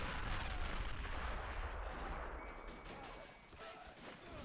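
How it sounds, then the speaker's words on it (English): A WW1 battle at Fort de Vaux in a video game, with a dense, continuous roar of mortar blasts and rattling gunfire, rumbling booms under sharp cracks, fairly loud throughout. "our mortars are doing a damn good job"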